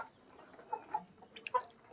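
Country chickens in a shed give a few short, soft clucks spaced over two seconds, faint and fairly close, while startled by a nearby monkey.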